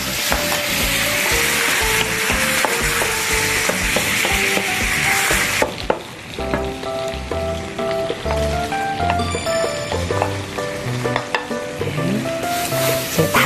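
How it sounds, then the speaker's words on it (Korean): Garlic stir-fries in a pan until golden, a loud, close, continuous sizzle with utensil scrapes and clinks. The frying drops off sharply partway through, then softer crackling and clatter continue without talk. "마늘이 어느 정도 좀 이렇게 노릇노릇하게 볶아지면"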